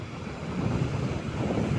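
Strong wind buffets the microphone at a shallow river mouth where big waves roll in, a steady low rumble of gusts and surf with no voices.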